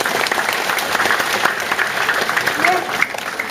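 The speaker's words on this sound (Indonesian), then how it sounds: "Tepuk tangan dulu untuk PKB" Applause from a crowd at a Balinese stand-up comedy show at the PKB arts festival, dense steady clapping throughout with voices mixed in.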